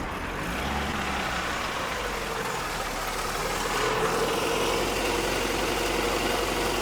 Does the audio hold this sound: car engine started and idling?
yes